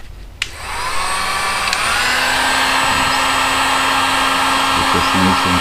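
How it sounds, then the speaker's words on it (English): A heat gun switches on with a click and then blows a steady, loud, continuous roar close by during a 2003 Toyota Matrix fuel pump replacement, with no talking over it. "Get my heat gun."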